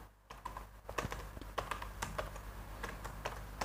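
Rapid, irregular keystrokes on a computer keyboard, close and fairly crisp, in uneven bursts with no talking over them.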